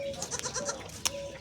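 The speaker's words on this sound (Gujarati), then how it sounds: "બકરા બધા ઉભા" Goats standing together on a farm let out a run of close, wavering bleats in quick succession, overlapping in a brief chorus before a sharper cry and a final loud bleat at the end.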